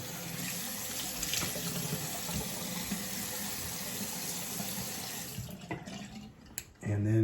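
Cold water runs steadily from a bathroom tap into a sink for a rinse after a razor shave, a continuous close hiss and splash that cuts off near the end with a couple of drips and a knock.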